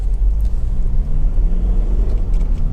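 A Honda CR-V 2.2 i-DTEC diesel EX 4x4 with a six-speed manual gearbox runs at a steady, low, even rumble, loud and close, with no voices over it.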